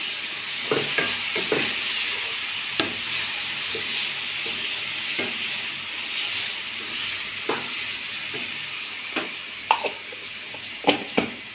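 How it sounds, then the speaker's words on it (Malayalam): Spoon stirring a sweetened coconut and jackfruit mixture with cardamom in a pan, with a constant soft hiss and sizzle underneath and sharp scraping taps scattered irregularly across it, close and fairly quiet, no voices. "നല്ലോണം മിക്സ് ചെയ്യുക."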